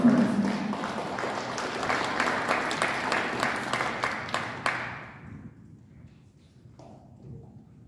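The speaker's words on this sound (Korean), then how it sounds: "큰 박수로 맞아주시면 감사하겠습니다" An audience claps loudly to welcome a guest at an Atlanta community event, dense applause that fades out after about five seconds, leaving quiet room noise.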